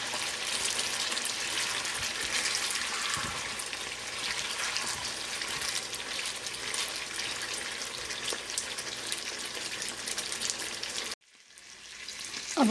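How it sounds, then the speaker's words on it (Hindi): Chili peppers frying in hot oil for a tempering step, a loud, steady sizzle that holds for about eleven seconds before cutting off abruptly into quiet. "और मिर्चों को बघार लेंगे।"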